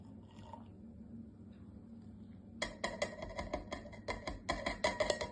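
Copper sulfate is spooned into a jar of hot water, producing a quick series of light clinking, tapping and trickling sounds after a quiet stretch, faint and close.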